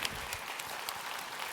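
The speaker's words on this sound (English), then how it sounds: "Round of applause for that." A round of applause at a tech conference's closing ceremony, a brief, fairly faint wash of crowd clapping heard from a distance.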